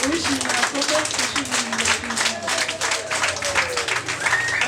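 Guests at a traditional Rwandan marriage ceremony clap in a lively, continuous patter under a voice that keeps talking over it, the crowd sounding moderately close.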